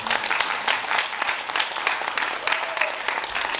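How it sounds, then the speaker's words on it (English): An audience applauds speakers at a dreams-themed storytelling event, steady dense clapping throughout, loud and close, without speech. "How about another round of applause for our great dreamers?"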